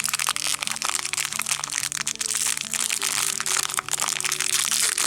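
Steady crinkling and crunching of a Mickey & Friends trading card booster pack wrapper, close and busy, over a faint repeating musical tone in the background.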